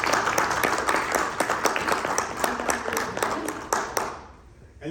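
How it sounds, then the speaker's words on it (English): An audience at a convention opening panel breaks into a quick round of applause, a dense burst of many hands clapping that fills the room before tapering off near the end. "Let's have a quick round of applause for Leslie and for Mark Morrell."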